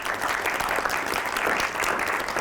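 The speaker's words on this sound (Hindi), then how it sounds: "तो एक बार ज़ोरदार तालियों से आवाज़ दीजिए" An audience claps loudly and steadily after a Hindi song and poetry performance at a stage event. Many hands produce a thick, continuous roar of applause that holds its level for the whole stretch.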